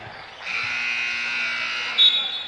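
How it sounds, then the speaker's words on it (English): A steady electronic buzzer at a college men's basketball game drones for over two seconds, briefly rising louder near the end, with crowd noise beneath it. "Buzzer goes off here."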